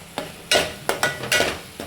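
A spoon stirring spiced mutton masala in a hot pan, a few scraping sweeps over a steady sizzle, close and clear.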